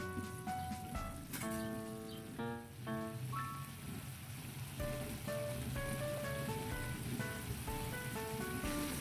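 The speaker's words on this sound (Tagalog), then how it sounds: "Mga tambay, kumukulo na." A pot of tomato and fish sinigang soup boils with a soft, continuous bubbling hiss, quiet and steady, while faint musical tones ring in the background.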